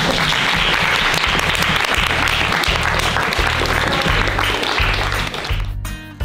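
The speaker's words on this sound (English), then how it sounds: "So give yourselves a round of applause." Sustained applause from an audience at a multicultural women's breakfast, loud and dense throughout before thinning out at the very end.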